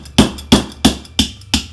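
Five sharp, evenly spaced hammer strikes drive a skewer down into a cake board, each hit a loud, close metallic knock with a short ring, about a third of a second apart.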